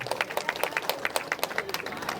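A crowd at a political rally in Gudur claps together in quick, rhythmic bursts of applause, moderately loud and close for a couple of seconds.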